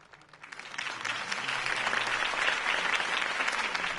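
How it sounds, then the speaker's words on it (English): Crowd applause breaks out after Harvey Dent's campaign speech in Batman: The Telltale Series, starting softly and swelling into a steady, dense roar of many hands that holds to the end. "If only Mr. Wayne, my campaign's largest backer, could have heard that applause"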